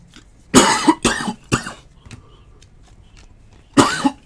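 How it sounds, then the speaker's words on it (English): A nagging cough, close and loud: three harsh coughs in quick succession, a short quieter cough, a pause of a couple of seconds, then another burst of coughing, with no talking. "got this nagging cough."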